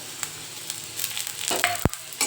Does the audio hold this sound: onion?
yes